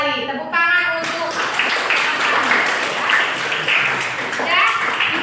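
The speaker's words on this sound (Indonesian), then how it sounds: "Tepuk tangan untuk." Classroom applause for a student, children clapping together in a steady burst after a teacher's brief voice, lasting several seconds at moderate loudness.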